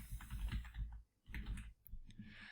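Password being typed on a computer keyboard: quick bursts of soft key clicks in two runs separated by a short pause, close and fairly quiet.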